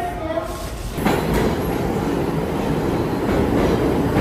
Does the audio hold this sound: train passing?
yes